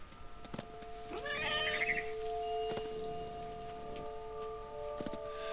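A cat meows once in the video game What Remains of Edith Finch, a short rising-falling call set against a steady synthetic background hum with faint clicks and tones, fairly quiet.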